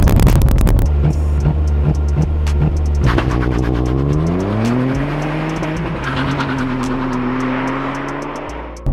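A 2023 Mk8.5 Ford Fiesta ST launches hard and spins its wheels, its engine note climbing steadily through the gears with a brief dip at the shift, loud and close throughout.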